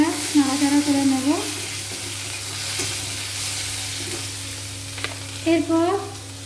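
Large-cut onion pieces fry in oil for chilli chicken: a steady background sizzle, with occasional scraping from a utensil stirring the pan.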